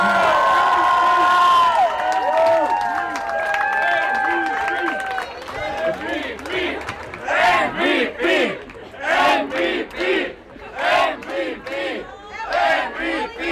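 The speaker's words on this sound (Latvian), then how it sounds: "aplausi Jānim Krīnānam." A festival crowd roars and shouts together in repeated surging bursts, loud and close, rising out of a stretch of voices and music at the start.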